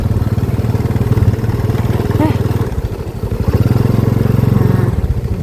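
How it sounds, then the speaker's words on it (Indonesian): A parked motorcycle idles close by with a steady, throbbing low engine hum that dips briefly in the middle, then settles back into an even idle. "Bentar ya, aku taruh motor dulu di sini."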